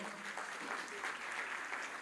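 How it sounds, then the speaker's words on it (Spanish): A church congregation claps warmly for guests, a short, fairly faint and steady patter of applause with voices mixed in. "Dejen salir a los invitados y denles un fuerte aplauso"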